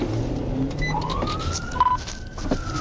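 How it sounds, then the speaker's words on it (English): A police siren wails from a distance, rising and holding in a long sweeping tone over faint road noise. "The cop has his siren on at this point."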